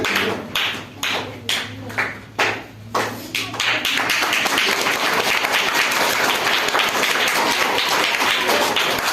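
Audience applause for prize winners at a Saraswati Puja school event: a few scattered claps swelling into loud, steady, dense clapping from the crowd that fills the rest.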